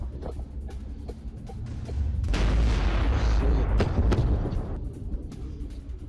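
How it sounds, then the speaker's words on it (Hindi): A booming roar swells up and holds for several seconds after an attack blows apart a gas station near Kyiv in wartime, then fades back into lower rumbling with scattered cracks. "कीव के पास एक गैस स्टेशन पर हमला करके पूरे स्टेशन को उड़ा दिया गया"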